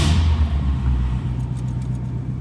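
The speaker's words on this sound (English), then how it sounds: "Let's go ahead and fire this up." A 1966 Ford Mustang Convertible engine catches and settles into a steady, loud low rumble close by, with a brief burst of higher noise at the very start.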